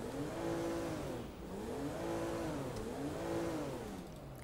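The simulated engine of a 2010 Audi A4 in GTA 5, driven with a steering wheel, revs up and falls back in three repeated rising-and-falling swells, steady and fairly loud, with no talk.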